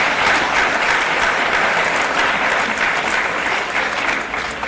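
An audience at a talk applauds steadily and loudly throughout, a dense wash of clapping hands with no pauses.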